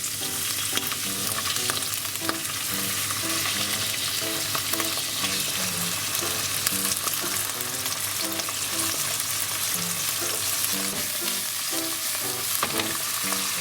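Water-rinsed oysters stir-fried with garlic in a pan, constant close sizzling under a busy pattern of spatula scrapes and taps against the pan.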